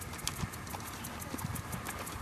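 Ridden horse's hooves clip-clopping at a walk, a near, light, irregular series of soft thuds over a quiet outdoor background.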